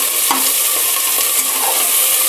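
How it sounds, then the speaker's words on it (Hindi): Onion frying in a pan with bay leaf, garlic cloves and red chilli gives a loud, constant, close sizzle and hiss, with a few soft stirring knocks. "प्याज डालने के बाद इसे मैं भूनूँगी प्याज को।"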